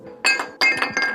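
Glass- or carbon-fiber-filled PPS plastic pieces dropped onto a concrete floor, giving three sharp, bright clinking impacts with a metallic high-pitched ring, close and fairly loud with no voices.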